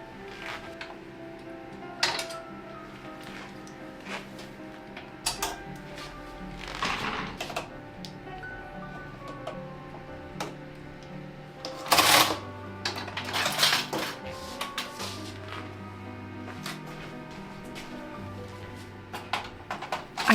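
Plastic and metal accessories clicking and clattering as they are detached from a knitting machine carriage, with scattered taps and clunks over steady background music and a louder burst of rattling midway.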